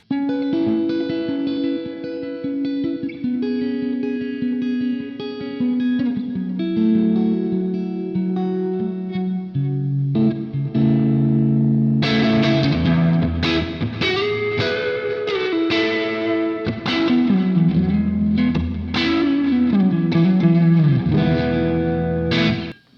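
A distorted Stratocaster electric guitar through a Morgan MVP66 tube amp plays sustained chords and then busier riffs with bends, thick and saturated, with no voices.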